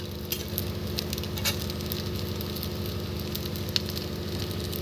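Paratha fries in oil on a pan with a continuous close sizzle and faint crackling pops, steady throughout with no voices.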